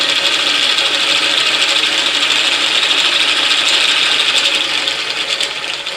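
A South Bend lathe runs with quiet replacement gears fitted, giving a close, steady mechanical hum with a faint rattling gear whine that holds constant and eases slightly near the end.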